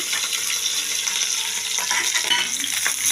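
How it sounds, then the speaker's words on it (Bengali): Marinated chicken fries loudly in oil with garlic and butter for garlic chicken, a dense, close, continuous sizzle with faint stirring scrapes underneath. "তেলের মধ্যে গার্লিক আর একটু বাটার দিয়ে দিয়েছি দেখুন এটাকে ভালো করে ভাজবো"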